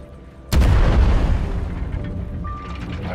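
Ship cannon fire in the video game Worlds Adrift, a single loud boom that hits suddenly and leaves a long rumbling decay, with faint ambient game sounds and a brief tone near the end.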